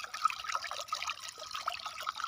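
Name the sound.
water flowing into irrigation channel in field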